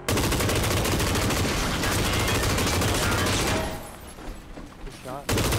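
Rapid bursts of gunfire in the battle game PUBG crackle loudly for several seconds, then drop away to quieter, scattered shots and noise before a loud burst returns; players talk over it.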